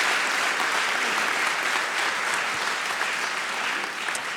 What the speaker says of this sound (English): So that deserves another round of applause.